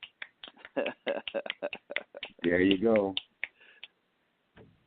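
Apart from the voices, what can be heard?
fingers snapping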